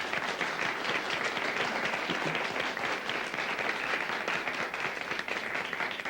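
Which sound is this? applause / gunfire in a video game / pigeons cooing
applause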